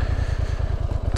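A motorcycle engine idles close by off trail, its low, even thumping pulse running throughout with a rough mechanical rumble and no voices.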